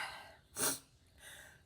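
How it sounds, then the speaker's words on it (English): A single sneeze bursts out once, close and fairly loud, framed by quiet breathing before and after, in a room where someone is giving an algebra lesson on slope-intercept form. "I got a sneeze coming."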